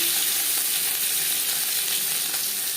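Boiled potato pieces frying in hot oil give a steady, dense sizzling hiss, close and unbroken, with no voices.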